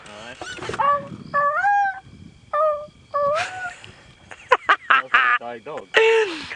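A person imitates the call of a bronze-winged courser bird on a safari broadcast, with several short, wavering, whistled and whining calls in bursts, loud and close, with other vocal sounds between them.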